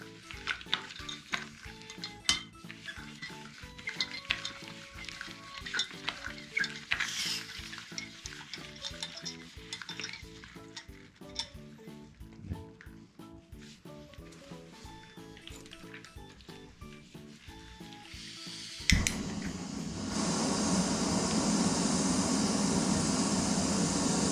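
A Steampot heater's gas burner is lit: faint clicks and handling noises give way to a sudden ignition, then a steady, loud roaring flame that carries on without pause.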